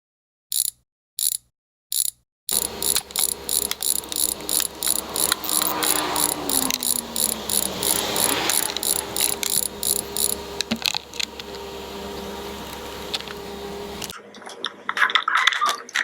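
Ratchet tools working on a YZ450F supermoto front fender, a few isolated clicks and then a fast steady ratcheting run, close and loud, with light rustling afterward.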